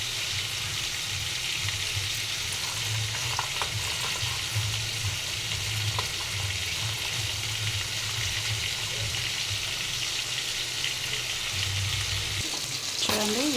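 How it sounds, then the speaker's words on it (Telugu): Chicken pieces fry in oil seasoned with chicken masala, giving a steady, close sizzle throughout with faint stirring sounds and a brief clatter near the end. "ఇదే నూనెలో మిగతా పీసులు కూడా వేపుకుందామండి."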